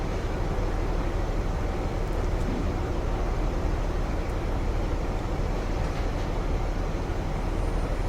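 A train in Train Simulator rolls steadily past Burnham station, its broad, continuous rumble holding an even loudness throughout with no voices.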